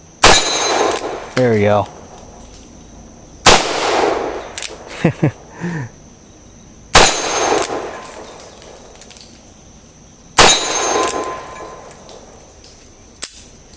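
A Cimarron single action .45 Colt revolver is fired single-handed at a steel target: four sharp, loud reports spaced roughly three seconds apart, each followed by a metallic ring. A voice speaks briefly between shots.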